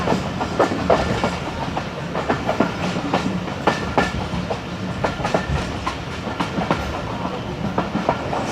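A train passes slowly through Chaklala railway station without stopping, steady loud rumble with repeated rhythmic clickety-clack of wheels over rail joints, close and continuous.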